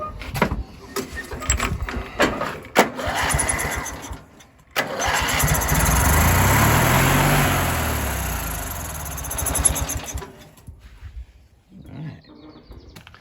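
A Lawn Chief lawn tractor engine, running on gas poured straight in, cranks, then catches and roars loudly for several seconds before dying away, with clicks and clanks around it.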